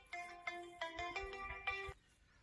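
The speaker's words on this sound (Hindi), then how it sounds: "फोन आ गया" A phone ringtone plays in short repeated melodic bursts, about five or six quick chimes in under two seconds, moderately loud and close, then stops.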